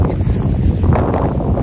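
Strong wind buffets the microphone at a riverside fishing spot, a loud, steady roar with no pauses and no talking.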